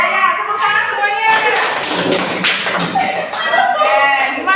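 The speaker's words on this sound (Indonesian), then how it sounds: "tepuk tangan semuanya" A class of students clapping together, a burst of claps rising in the middle, with a teacher and children talking before and after.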